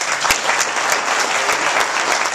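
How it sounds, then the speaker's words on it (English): A crowd in Madison, Wisconsin applauds nurses with a loud, dense, continuous roar of clapping, and sharp individual claps stand out near the front at a steady pace. "Give them a round of applause."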